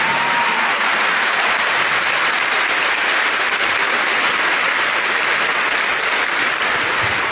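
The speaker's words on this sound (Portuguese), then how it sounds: "Aplauda o Senhor por esse final tão maravilhoso." Loud, sustained applause from a church congregation fills the whole span as a dense, steady wash of clapping with no pauses.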